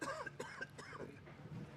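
A short muffled cough with some throat clearing, faint and close, heard alone.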